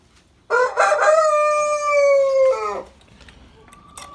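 A rooster crows once, loud and close, a long drawn-out cock-a-doodle-doo with a wavering tail, followed by quiet background.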